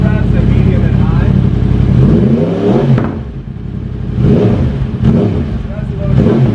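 A Yamaha R1M sport motorcycle with a race exhaust and race air filter blips at low revs, loud and close, with a few short throttle rises and drops from a deep idling burble.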